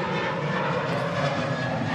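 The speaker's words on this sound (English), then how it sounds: "this is that mini little KLM on the taxi out" A small KLM passenger plane taxiing out at Manchester Airport, its engine a steady, fairly loud roar and whine heard from a distance throughout.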